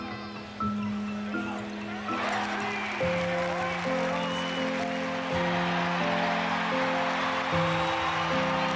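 A college basketball arena crowd roars and cheers steadily and loudly, a dense broad wash of noise that swells after the first couple of seconds, with sustained tonal notes layered over it.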